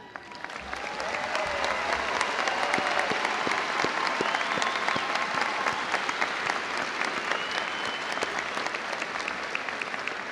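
A large audience at a university commencement ceremony claps steadily, a sustained wave of applause that swells quickly and holds at an even level throughout.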